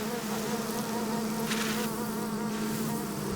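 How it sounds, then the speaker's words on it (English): Giant Himalayan cliff bees swarm over a large open comb, a dense, loud, continuous buzzing hum of countless wings, close and steady, with no voices. "Giant cliff bees build 3-foot combs that are a rippling wall of bodies."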